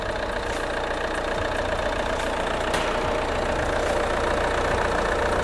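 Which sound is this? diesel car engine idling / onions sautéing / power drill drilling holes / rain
diesel car engine idling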